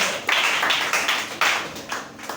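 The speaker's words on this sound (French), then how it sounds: "Acclamez très fort." A church congregation clapping in a few sharp, rhythmic bursts, close and fairly loud, with no talk over it.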